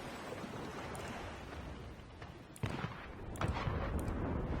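Enemy gunfire in the game Pillars of Eternity 2, a dense low rumbling barrage with sharper cracks near the middle and end, loud and continuous.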